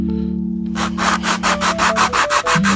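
Rhythmic back-and-forth rasping of 120-grit sandpaper on a small wooden molding piece held at a chamfered angle, about a dozen quick strokes, close and loud over a steady low hum.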